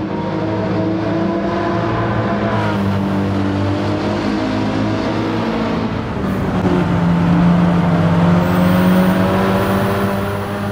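Ford Focus rally car in Gran Turismo 7 braking into a corner, a loud, steady engine drone with shifting harmonic pitch that rises again as it powers out, continuous and close with no talking.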